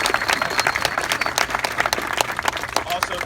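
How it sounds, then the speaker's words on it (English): An audience applauds at a public event with the Governor and members of the General Assembly present, dense clapping running steadily throughout with some voices mixed in. "you can give him a round of applause"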